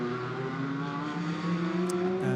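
A GT race car at the Lisboa corner in Macau turns around after overshooting, its engine idling and humming steadily close by, with a slight rise in revs near the end and no voices.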